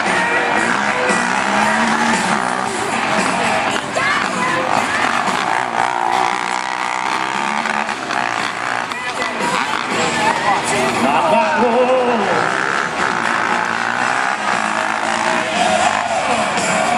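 Rodeo truck run with the back wheels locking up, the skid buried under a steady loud crowd roar with shouts, whoops and cheering plus a PA announcer's voice throughout.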